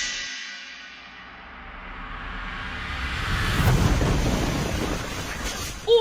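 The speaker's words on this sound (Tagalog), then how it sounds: "Umuugong na hangin at mabigat na buhos ng ulan" Heavy rain from a typhoon pours steadily while wind roars and swells, building to a loud, rushing peak before easing slightly.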